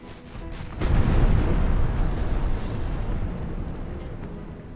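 Naval gunfire and an exploding shell in the Ultimate Admiral Dreadnoughts warship game: a deep, heavy boom swells and then rumbles on steadily for several seconds with no talk.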